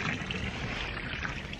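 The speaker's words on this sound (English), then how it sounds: "And I'm just adding some hot water." Hot water is poured into a paddling pool, a steady rushing splash and gurgle that holds evenly close by for a moment with no talking.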